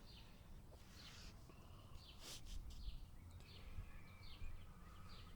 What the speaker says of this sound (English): I hope perhaps you can hear the birds